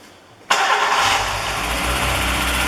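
A car engine with its accessory belt removed cranks and catches after half a second of quiet, then settles into a loud, steady, slightly high idle with no talking.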